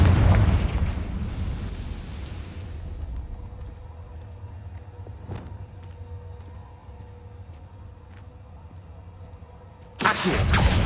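Confringo blasting-curse explosion in the Hogwarts Legacy video game: a loud rumbling boom that fades into a long low decay, a sharp pop midway, then a second loud burst near the end, with no talk.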